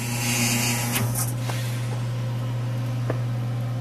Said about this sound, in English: Once the light's done, turn off the vacuum.